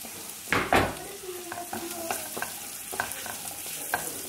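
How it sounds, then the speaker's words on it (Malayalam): Onions sautéing in a pan for mushroom rice: a steady close sizzle broken by repeated scraping spatula strokes, with no talking. "സവോള നല്ല രീതിയിൽ തന്നെ ഒന്ന് വഴന്നു വരട്ടെ"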